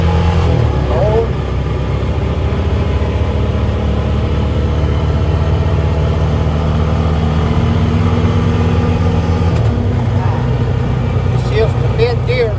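Honda Pioneer 500 side-by-side driving along a road, its engine a steady close rumble that drops and shifts pitch as gears change, under continuous talking.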